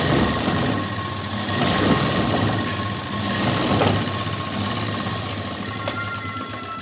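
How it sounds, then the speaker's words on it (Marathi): A sewing machine runs a steady press stitch along folded fabric and lining for a puff sleeve, its loud, continuous mechanical whir swelling slightly in places without pause. "दाब शिलाई देताना पहा"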